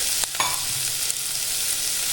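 Onions sauté in a pan with a steady, close sizzle and a few scraping stirs, a continuous frying hiss with no voices.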